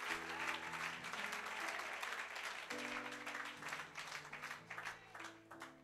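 A church congregation applauding and acclaiming the Lord during a sermon on repentance: sustained, fairly faint clapping with cheering voices over a steady sustained organ-like chord backing.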